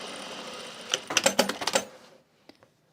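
A sewing machine stitches across a travel bag in one short, rapid burst of clattering needle strokes, then stops and is followed by two faint clicks in near silence.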